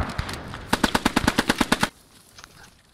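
Short rapid bursts of Sten submachine gun fire in a video game battle near a barn, about a dozen sharp evenly spaced shots ending abruptly, then quiet.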